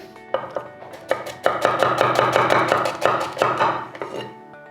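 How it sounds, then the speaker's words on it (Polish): Rapid, rhythmic strokes of a Japanese knife chop onions on a board, a fast steady series of sharp taps close up. "kroiłem cebulę tak"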